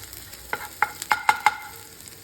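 An omelette fries in a pan with a few chili-oil touches. A handful of sharp spatula taps and scrapes ring against the pan, close and distinct over a faint background.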